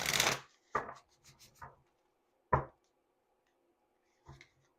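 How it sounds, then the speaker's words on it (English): Oracle cards from the Intuitive Whispers Oracle deck are shuffled in a few quick, crisp bursts, the first the loudest, followed by softer riffles and taps with short quiet gaps between. "Just one more shuffle for you."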